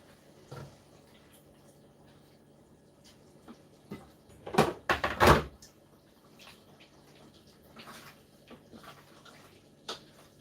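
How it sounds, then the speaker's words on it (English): Water poured into a pot of bean stew makes a brief splashing gush of about a second amid quiet kitchen clatter and scattered small knocks. "I'm going to put a little bit of water."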